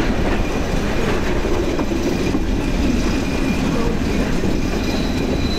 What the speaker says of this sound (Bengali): ট্রেন চলেই যাচ্ছে এখন।